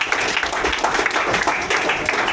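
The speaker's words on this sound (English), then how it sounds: "Give it yourselves a round of applause for Kurbstompt" Audience applause at a punk show at The Furnace, a dense, steady crowd of clapping that stays loud and close throughout with no voices over it.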